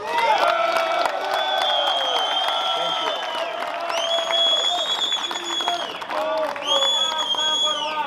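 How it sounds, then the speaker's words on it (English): Arena crowd applauds and cheers the new undisputed light heavyweight boxing champion, Dmitry Bivol, a continuous wash of claps with whistles and shouts rising over it, voices mixed in. "a huge round of applause"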